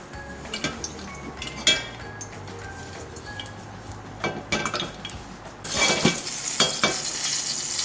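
Green chilies spluttering in hot ghee in a pan, with irregular pops and crackles and a few utensil clinks, swelling into a fuller, steady sizzle near the end, close by.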